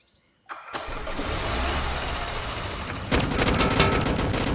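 Car engine in the video game A Dusty Trip cranks and catches after a brief silence, then settles into a steady mid-pitched rumble, with a louder, rougher surge partway through as the car pulls away; no voices.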